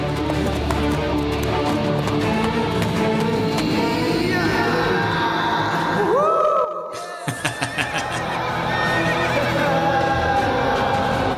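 A horse neighs loudly in a long whinny, with hooves thudding and a busy music-like background, a brief silence in between.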